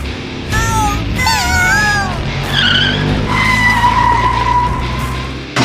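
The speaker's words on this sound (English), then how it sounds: "a truck was driving straight towards them at high speed" A speeding truck skids, its tires letting out loud, sweeping squeals and a long sustained screech, mixed with high cat-like cries.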